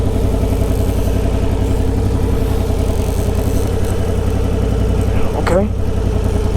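A 1000cc motorcycle rolling at low speed, around nine miles an hour: a steady, loud, low engine drone with an even throbbing pulse throughout, close up, with a brief rising whine near the end.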